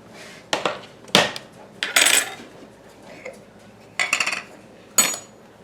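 Butter going into a skillet on a stove, with several loud metallic clanks and scrapes of utensil against pan in separate bursts.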